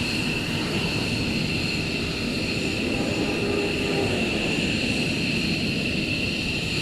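A military jet makes an unrestricted takeoff at RAF Lakenheath during surge operations, a broad, steady engine roar that holds loud throughout with no voices over it.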